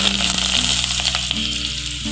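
Crushed garlic and curry leaves fry in hot oil with popped mustard seeds, giving a steady, close, crackling sizzle throughout.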